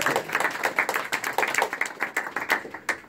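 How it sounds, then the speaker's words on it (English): Audience applause at a VR/AR chapter meetup in Los Angeles, a modest group clapping in a quick, fairly close rhythm of distinct hand claps for about three seconds with no talk over it. "let's have a round of applause for"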